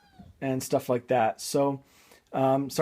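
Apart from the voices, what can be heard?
pet cat meowing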